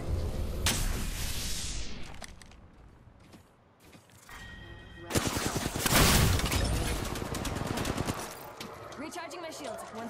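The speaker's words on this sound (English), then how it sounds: "Getting shot at." Machine-gun and rifle fire aimed at the player in a battle-royale style video game, rapid bursts of shots in two loud clusters separated by a quieter lull, with mechanical clanks in between.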